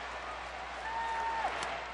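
A baseball stadium crowd roars in a steady, broad wash of cheering and clapping as the bases are loaded, with a faint whistle rising briefly over the noise.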